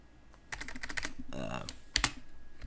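A command is typed on a computer keyboard in a Linux terminal, a quick run of close, crisp key clicks with a few heavier strokes, no talking over it.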